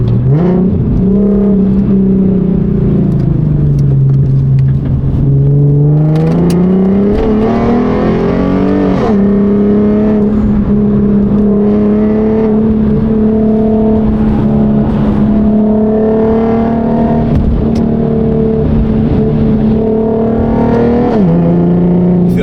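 A Corvette C8 accelerating hard, its engine note climbing and then holding a loud, sustained droning roar heard from close by, with almost no talk over it.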